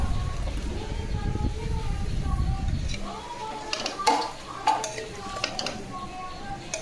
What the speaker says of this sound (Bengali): সব মশলা এবার ভালো করে খুব কষিয়ে নেব